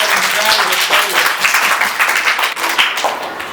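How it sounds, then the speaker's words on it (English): A classroom of students applauds a classmate with a dense burst of hand clapping lasting several seconds, close and loud, as voices talk over it. "Clap for Salvanur."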